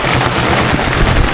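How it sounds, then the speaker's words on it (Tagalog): Heavy rain pours steadily in a dense, continuous hiss, loud and near, with no voices during the burst. "Ulan guys."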